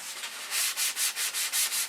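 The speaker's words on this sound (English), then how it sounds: "This is 500 grit sandpaper here, and I'm only sanding with 500" Rhythmic back-and-forth sanding with 500 grit sandpaper on a P-47 model before painting, about eight quick, even strokes, close and clear with no talking.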